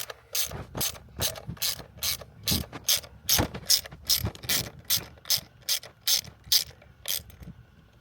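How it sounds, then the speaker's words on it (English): Hand wrench ratcheting loose tight bolts on the shifter of a 2019 Corvette C7 Z06, a steady run of about twenty crisp, close clicks in quick bursts, with no talk. "I went and got a wrench because they were too tight."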